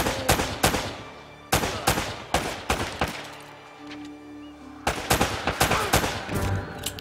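Gunfire in the video game Uncharted: Drake's Fortune: loud, sharp repeated shots in rapid clusters, with a brief quieter gap in the middle before another fast burst of shots.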